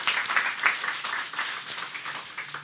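A room of people at a candidates' meet-and-greet event gives a round of applause, a fairly soft, even patter of clapping heard from a bit of a distance.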